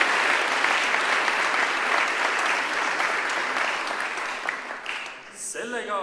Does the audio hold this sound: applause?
yes